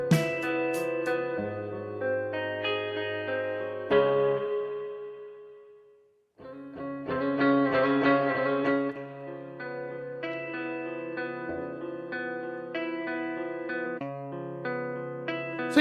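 Electric guitars played through the PlateVerb plate reverb app on iOS, sustained chords and picked notes with a long wet tail, a brief fade to silence near the middle, then a denser strummed passage; no talking.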